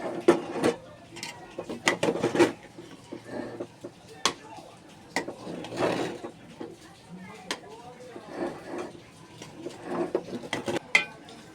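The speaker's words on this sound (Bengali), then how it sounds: "এবার ভালোভাবে নেড়ে নিতে হবে" A spoon scrapes and knocks against a pot as Dhaka-style white khichuri made with pulao rice and mung dal is stirred, irregular clinks and scrapes with faint sounds in between.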